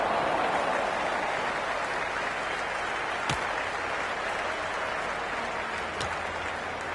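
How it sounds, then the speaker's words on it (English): Large cricket stadium crowd roaring and applauding in a steady, dense wash of noise, with a couple of sharp thuds breaking through. "The crowd is electric right now."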